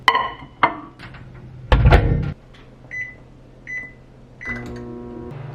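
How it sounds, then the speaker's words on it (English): A microwave oven heats leftover rice: door thunks shut, keypad beeps, then a steady hum begins, loud and close in a quiet kitchen. "Just gonna heat this up in the microwave."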